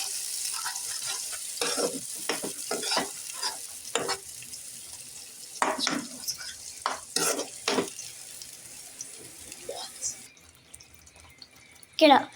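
Onion and tomato puree tipped into a hot frying pan and stirred in for a pumpkin kofta curry: a steady sizzle runs under scraping and stirring strokes before it suddenly quiets near the end, with speech over it.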